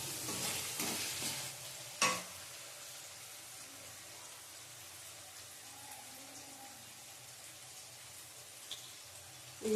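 Poppy seed paste stirred and frying in a pan, a steady soft sizzle with occasional scraping clatter from the spoon, one sharp knock near the start, no talk.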